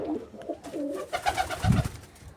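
Pigeons coo softly inside a home coop, a few low rolling calls close by with quiet background shuffling.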